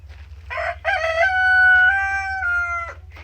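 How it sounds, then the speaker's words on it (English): A rooster crows once, loud and close, a rising then long sustained call that breaks off sharply, with a low steady hum underneath. "the rooster is, I guess, cheering us on"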